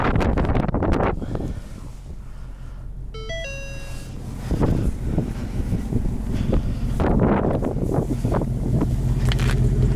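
A 2020 Ford Mustang GT idles with its exhaust valve open in track mode, a steady low rumble under heavy wind noise, with a brief electronic chime early on.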